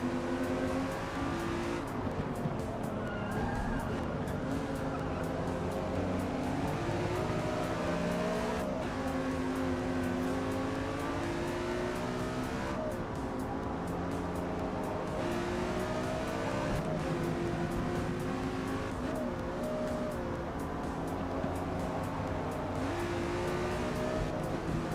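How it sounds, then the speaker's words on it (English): Nissan car driving and repeatedly brake checking in a racing game, a steady engine drone with shifting revs and occasional tire noise that runs continuously throughout. "This Nissan is brake checking the crap out of me."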